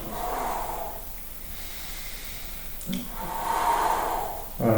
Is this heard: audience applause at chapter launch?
no